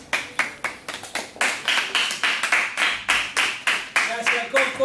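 An audience gives rhythmic applause, clapping in unison at about four beats per second, loud and close, with voices mixed in.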